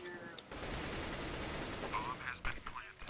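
Gunfire from a CS:GO LAN tournament match cracks out as a dense, sustained burst, with a few sharp separate shots near the end and a caster talking over it.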